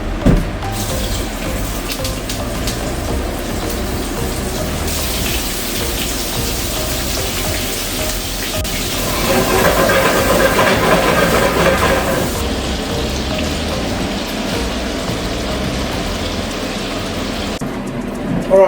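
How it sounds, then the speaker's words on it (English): Meatballs frying in a frying pan, a steady loud sizzle and crackle that swells midway as more are added, continuing throughout with faint talk beneath. "I'm going to grab these meatballs, bit by bit, and fry them now in my frying"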